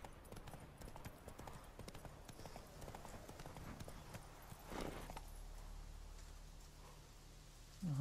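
Horse hooves clip-clopping steadily in The Witcher 3 as the mount crosses toward a bridge and town, a brisk regular patter with faint rain-like hiss behind it and a brief louder thump near the end.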